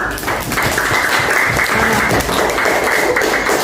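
Students in a classroom session at an Islamic university applaud after a Quran recitation, a steady, moderately loud patter of many hands clapping close by, sustained evenly for several seconds.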